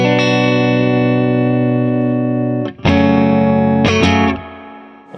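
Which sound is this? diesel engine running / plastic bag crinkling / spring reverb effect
spring reverb effect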